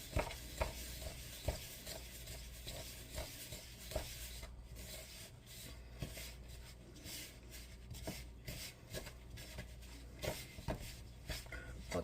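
A spoon stirs cake batter in a bowl at home, producing repeated soft scraping and swishing strokes in a steady rhythm, close but fairly quiet.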